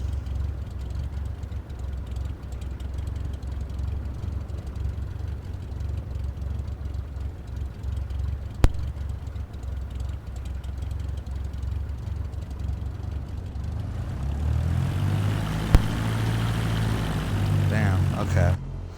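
Propeller plane engine in Microsoft Flight Simulator 2024, a steady low drone running throughout while taxiing, with the pitch and level rising toward the end as the engine spools up, and a couple of brief clicks.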